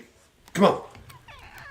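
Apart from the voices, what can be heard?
cat meowing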